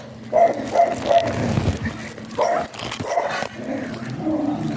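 A dog barks in repeated sharp bursts, loud and close, with rough growling and whimpering between the barks.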